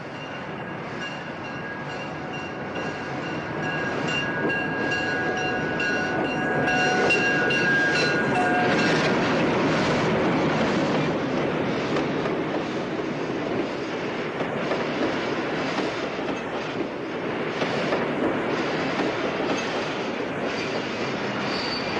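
A New Haven EP-5 electric locomotive hauling coaches rumbles past with a steady roar and rhythmic wheel clatter, a long continuous run with faint squealing tones early on and no voices.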